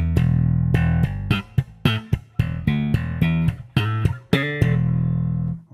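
A bass guitar plays the opening bar of a funk tune, a short syncopated line of plucked notes and hammer-ons, clear and close, with no other instruments.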